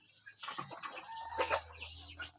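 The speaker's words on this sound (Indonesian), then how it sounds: "saya sedang memperhatikan ayam-ayam yang ada di kandang saya ya" Chickens and roosters in a farm coop cluck and squawk continuously, with one rooster's crowing rising among the flock's overlapping calls, close and loud.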